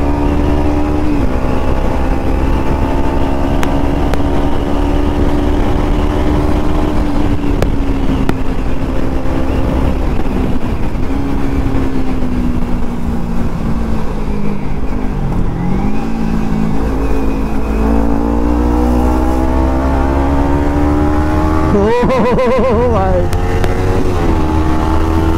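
A vehicle engine pulls hard on an open road, its tone rising and falling through shifts with a continuous loud drone and wind roar, with speech occurring over the engine noise.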